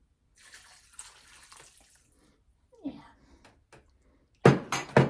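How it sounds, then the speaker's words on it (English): Water goes into a pot of soup with onions and garlic, starting as faint trickles and splashes, then ending in a loud burst of pouring; a voice is briefly heard in between. "I'm going to put some water in"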